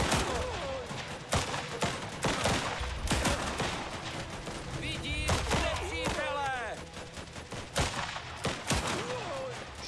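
Gunfire in the wartime video game Last Train Home, with rattling bursts and scattered shots layered with explosions and battle noise throughout, while voices shout and talk in the mix.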